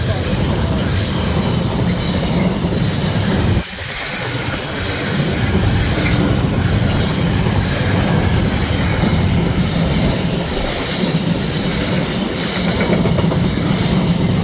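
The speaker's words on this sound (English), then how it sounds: "Or no, it's a freight train." Freight train carrying containers rolls past a level crossing, a loud continuous rumble of wheels and wagons with clickety-clack and brief squeals, sustained throughout with one short dip partway.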